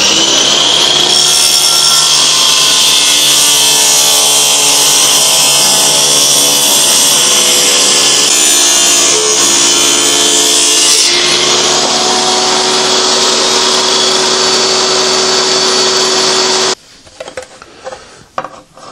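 A power saw with a raised blade cuts through wood in a long, loud, steady whine that shifts pitch midway, then cuts off abruptly into a few quieter clunks and rattles.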